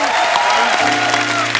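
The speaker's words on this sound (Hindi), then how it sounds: "जोरदार तालियां" A studio audience on a TV comedy talk show claps in a short, loud, steady burst of applause.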